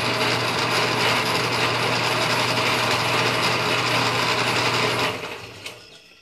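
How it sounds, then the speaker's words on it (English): A small barrel trimmer power tool whirs loudly and steadily, close by, as it trims a pen during a repair, then cuts off and winds down, leaving a light clink and near silence. "you can just put it on here, and this little barrel trimmer"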